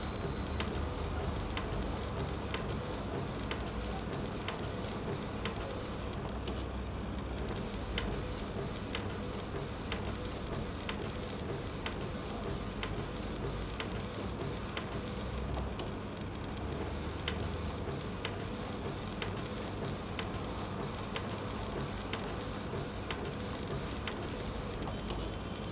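An Epson T50 inkjet printer prints onto an RFID smart PVC card, its carriage shuttling with a steady, even mechanical whir and regular ticking strokes, close and continuous throughout with no voices.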